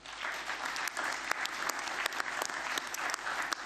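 Delegates at a football confederation general assembly applauding for the FIFA president, a sustained, fairly faint patter of many hands in a large hall, with no speech over it.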